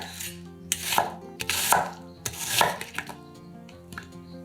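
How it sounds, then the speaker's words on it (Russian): An onion chopped into rough chunks on a board, several sharp knife strikes in an uneven rhythm, close by, with music playing underneath. "Одну луковицу нарезаем произвольными кусками."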